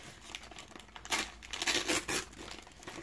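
Close-up crinkling and tearing of paper as mail is opened, a rustling burst that swells and settles over a few seconds.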